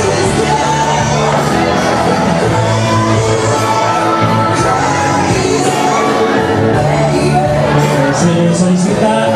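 A school crowd shouts, whoops and cheers loudly and continuously for a young woman candidate at a pageant-style presentation, a dense roar of many voices with no letup.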